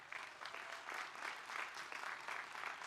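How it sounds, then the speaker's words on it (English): Applause fills a college commencement ceremony for the College of Arts & Sciences, sustained dense clapping from a large audience, steady and somewhat distant, heard alone without speech. "So let's give that a round of applause."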